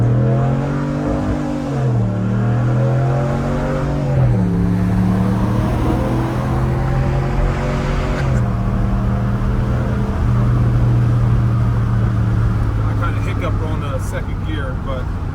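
A Ram Rebel pickup with a 5.7 V8 accelerating through its gears from inside the cab, engine pitch climbing then dropping at each upshift, while people talk over the steady drone.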